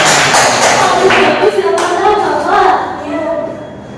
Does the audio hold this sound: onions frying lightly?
no